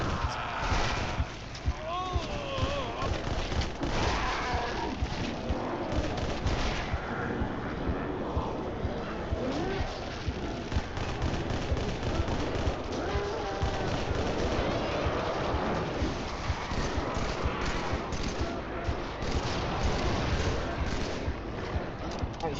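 Dense, rapid gunfire and explosions fill a Halo 3 battle against the Flood, with continuous bursts and blasts throughout and someone talking over the combat.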